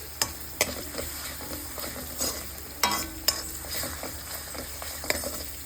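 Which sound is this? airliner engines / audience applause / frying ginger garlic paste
frying ginger garlic paste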